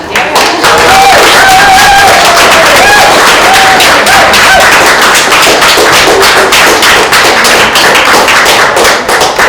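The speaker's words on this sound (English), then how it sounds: "Can we give a round of applause to our Herbick brothers?" Loud, sustained applause from an audience at a public library's 100th birthday party, dense clapping over about ten seconds with sparse crowd voices and faint tonal music.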